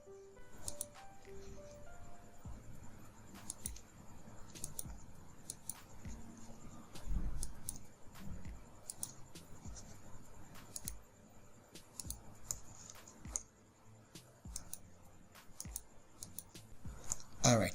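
Rapid series of small computer mouse clicks while trimming lines in AutoCAD, sharp and close, coming in irregular runs over a faint steady background hum.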